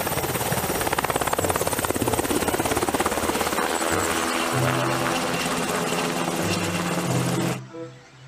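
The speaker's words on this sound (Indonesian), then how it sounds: "Ada satu helikopter besar" A toy helicopter whirs loudly and steadily with a rapid buzzing rotor pulse, close to the microphone, then cuts off abruptly near the end.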